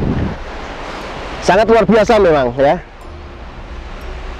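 Steady wind and ocean surf wash across an open shore, a continuous broadband rush beneath someone speaking briefly in the middle.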